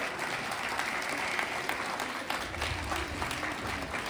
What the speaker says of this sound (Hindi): ये तालियां आप लोगों के लिए थी।